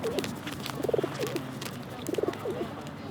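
Pigeons coo in soft, throaty rolling phrases, two close bursts of low warbling calls over faint outdoor background noise.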